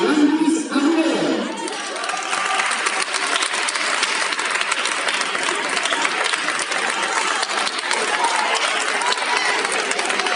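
At a cycling school presentation, an audience gives a young cyclist dense, sustained applause that swells quickly and carries on steadily, with a voice heard briefly at the start.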